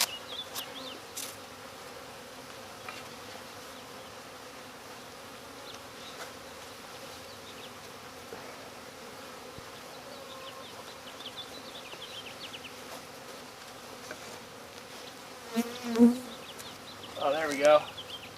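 Honey bees buzz around a fully opened backyard beehive during weekly maintenance, a faint steady drone throughout with a few louder passes near the end as individual bees fly close.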